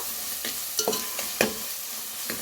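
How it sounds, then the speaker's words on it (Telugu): Ginger garlic paste frying in a pan, a low sizzle broken by several sharp scraping knocks of a spoon stirring against the pan, close and fairly quiet. "కొంచెం అల్లం వెల్లుల్లిపాయ పేస్ట్ కొంచెం వేగాక"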